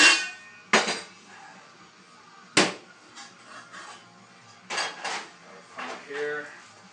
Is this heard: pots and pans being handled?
yes